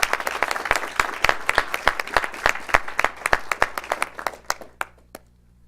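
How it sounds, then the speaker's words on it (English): Scattered clapping from a small group at a North Las Vegas city council meeting, distinct individual claps that thin out and stop after about five seconds. "can we give them a round of applause as well?"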